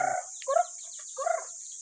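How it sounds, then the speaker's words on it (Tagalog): A few short bursts of domestic farm chickens clucking close by, separated by brief pauses, with no talking. "madami ditong ano, mga alagang manok to"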